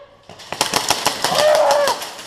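Airsoft rifle shots in a team deathmatch game at an indoor arena, a quick burst of several sharp cracks followed by a sustained whistling tone, loud and close.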